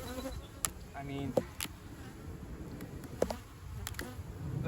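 Honey bees buzz in an opened hive during a first spring inspection after the colony swarmed in the fall. A soft, continuous hum comes from a modest number of bees, with occasional sharper buzzes passing close by.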